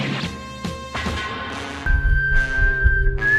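Shrill whistling tones rise and hold over bursts of crashing, thumping noise, loud and close, with a long sustained whistle near the end.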